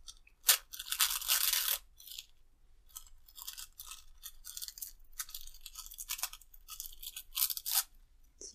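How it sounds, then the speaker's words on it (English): Tissue stabilizer ripped sideways away from hand embroidery stitching, giving repeated close, crisp papery tearing bursts in quick pulls, loud at first then a run of shorter rips with brief pauses between. "We're just going to rip this off."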